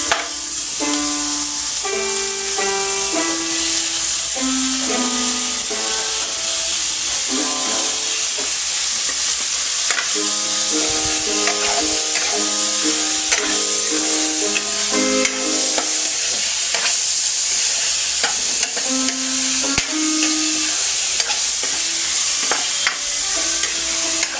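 Onions, with garlic, sauté in a pan for a Filipino mung bean stew, a loud, steady sizzle with stirring that runs under melodic background music throughout.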